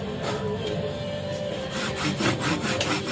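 A rust-free hand saw working through a calabash fruit, close and fairly soft: a steady run of rasping back-and-forth strokes that grows into distinct rhythmic pulls toward the end, with no talk.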